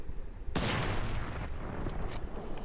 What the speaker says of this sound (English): explosive sniper rifle, right?